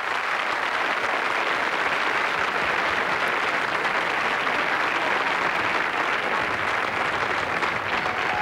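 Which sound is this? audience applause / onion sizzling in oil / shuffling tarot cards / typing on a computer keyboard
audience applause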